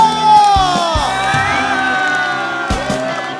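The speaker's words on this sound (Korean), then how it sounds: "여성팀 남성팀 3초간 함성 발사" Women's and men's audience teams at a televised trot music show roar and cheer loudly together for a few seconds, with music and sustained singing running over the shouting.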